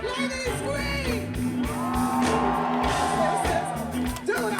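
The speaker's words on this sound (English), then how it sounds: "Ladies, scream." Festival crowd of women screaming and cheering during a live blues-soul concert, with loud sustained shouts layered over the band and amplified singing.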